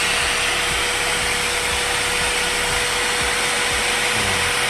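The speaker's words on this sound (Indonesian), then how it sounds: "Ini caranya ini nanti digerinda pakai gerinda besar." A large angle grinder working a mandau blade, a constant harsh whirring hiss with a steady motor tone, loud and close, running without pause and no talk.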